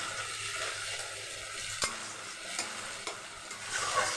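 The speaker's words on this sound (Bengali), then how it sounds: "আমি এটা ফুল ফ্লেমে দিয়ে দিয়েছি কষাবার জন্য।" Curd and spices cook down on full flame in a pan, a soft steady sizzle broken by a few quick scrapes and taps of a spoon stirring, close and fairly quiet, no talking.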